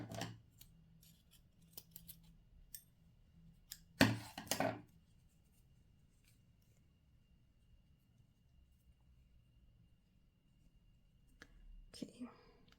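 Scissors snip through yarn tails on crocheted shoe work, giving a sharp close cut followed by a few lighter snips and quiet handling sounds, with soft whispering speech under them.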